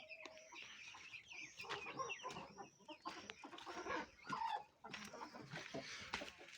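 Hens clucking and squawking in a busy, overlapping chorus close by, with sharp calls rising above a continuous flurry of farmyard chatter.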